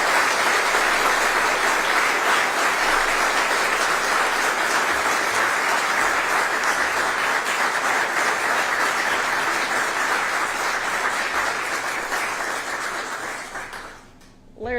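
Sustained, loud audience applause at a government press event announcing a new state treasurer appointee in Arkansas, a thick, even roar of clapping that carries on without a break before dying away near the end.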